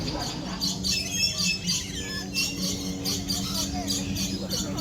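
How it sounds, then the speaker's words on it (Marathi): Many small birds at Singapore's Bird Paradise chirp and tweet continuously, high repeated calls layered over a busy ambient hum of visitors and the park. "मस्त अशा पक्ष्यांच्या चिवचिवाट ऐकतोय कानावर"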